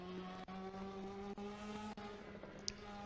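Ferrari Challenge race car at Spa-Francorchamps, a 2018 Trofeo Pirelli round, braking hard: a steady engine drone with distant tire scrub and a few sharp dips in the noise, heard from afar.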